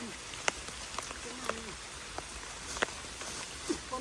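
Rain falls in a forest during a bamboo-shoot foraging trip, with scattered drips and taps landing on leaves and ground. Faint voices and rustling movement are heard beneath the patter.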